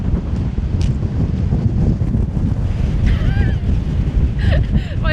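Strong coastal wind from Storm Kathleen roars and buffets the microphone continuously, loud and close, with faint voices briefly audible beneath it.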